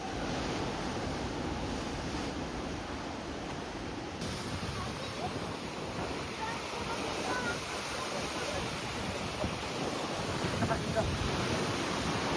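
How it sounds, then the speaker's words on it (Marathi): Ocean waves rolling in at Kunkeshwar beach on the Konkan coast at high tide, the sea rough and churning; a continuous close roar of surf mixed with wind rush, steady throughout with slight swells. "आली लाट ही बघा, आली लाट ही बघ कसली मोठी आली."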